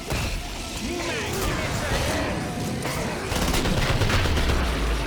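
Rapid gunfire from a video game shooter, loud sharp shots clustered into bursts with crashing impacts, layered under steady game noise and a player's talk.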